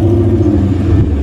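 A Ford sports car engine idles roughly, a loud, close, low rumbling drone with uneven pulsing throughout.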